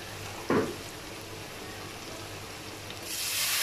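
Masala with star anise fries in a pan as about two tablespoons of water go in, giving one sharp, loud sizzling burst, then a low steady hiss that swells again toward the end, with no talking.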